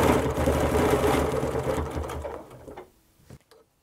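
Sewing machine stitching over a circle on a quilt, a rapid continuous mechanical chatter up close that slows and stops after about three seconds, followed by a couple of faint clicks.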